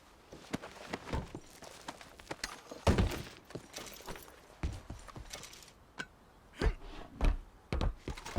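Horse hooves clopping along at a walk in Red Dead Redemption 2, an uneven run of close, distinct thuds with brief pauses, heard alone without talk.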